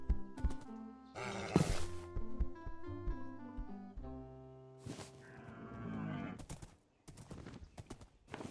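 Horses in the video game RLcraft, heard as a run of loud, close, harmonic animal calls and snorts with some clopping and rustling between them.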